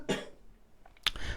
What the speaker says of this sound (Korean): 제가 감기가 걸려서 좀 기침이 많이 나옵니다.